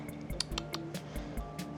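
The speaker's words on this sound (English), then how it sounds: "Pour in the ½ cup of oil and 1 cup of milk." Oil and milk are poured into a mixing bowl of sifted dry cake ingredients, giving a quiet run of wet drips, splats and small glugs at close range.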